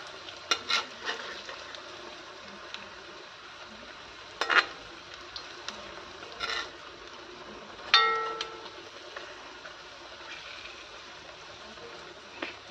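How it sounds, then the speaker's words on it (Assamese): Jackfruit pitha frying in a pan, a soft steady sizzle with a few sharp clinks and scrapes as the cakes are turned, close and fairly quiet, with no talk. "ভাল লাগে পিঠাকেইটা লৰাই দিওঁ এবাৰ"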